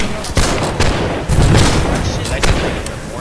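Booming mortar fire and explosions in a video game battle, loud and dense with repeated blasts layered over one another, and voices calling out under the din.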